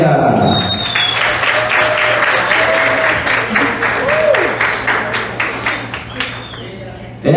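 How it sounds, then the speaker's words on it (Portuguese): Steady audience applause for students and their teacher in a music performance hall, a sustained wash of many hands clapping that slowly thins toward the end, with a voice speaking over it. "recebendo os aplausos da nossa plateia"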